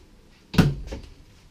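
A hardwood cabinet door in a 2017 Forest River Georgetown XL 378XLF motorhome bathroom shuts with a single close, soft thud followed by a faint second knock.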